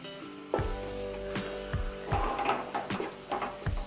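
Egg fry being stirred in a pan with salt and chili, giving a soft sizzle broken by several distinct scraping clacks of a spoon against the pan at an irregular rhythm, close and fairly quiet.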